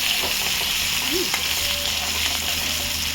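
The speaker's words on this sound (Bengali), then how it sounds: "পেঁয়াজটা ভাজা ভাজা করে ফিরছি।" Sliced onions fry in hot mustard oil over cumin seeds for a prawn curry, giving a loud, steady, close sizzle that runs without a break.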